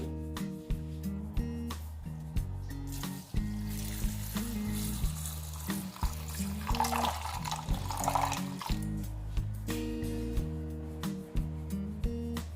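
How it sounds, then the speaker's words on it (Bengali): Milk pours into a bowl of sugar for tal malpua batter: a soft, steady liquid splashing that rises in the middle of the clip beneath ongoing background music. "তারপরে দিচ্ছি আমি দুধ"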